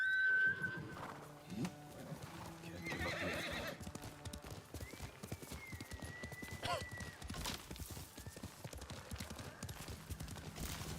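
Horse in a video game, hooves clip-clopping in a steady rhythmic gait and a clear neigh, with faint game ambience and bird calls behind.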